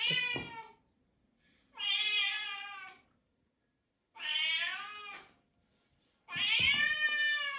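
A house cat meows four times while music for cats plays, each cry long, loud, drawn-out and wailing, separated by short pauses of near silence.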